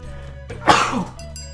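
A single sharp sneeze bursts out close to the microphone, rising quickly and then fading over about half a second, set against a faint background hum and quiet game sounds.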